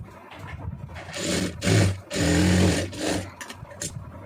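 Sewing machine stitching cloth in quick bursts, a few short runs of loud, close whirring separated by pauses, with faint handling noise between them.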